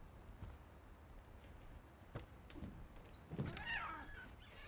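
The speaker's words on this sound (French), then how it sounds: "Ah bah il y a le chat." A cat in the video game What Remains of Edith Finch gives a soft meow near the end, faint against a quiet room hush with a few light knocks and shuffles.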